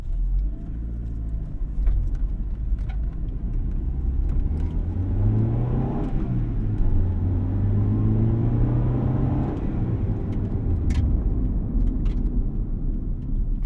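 A 1995 Honda Civic Si EJ1 on the road, its engine droning low and revving up through the gears with a rising then settling pitch, steady tire and road rumble underneath, close and continuous with no talk.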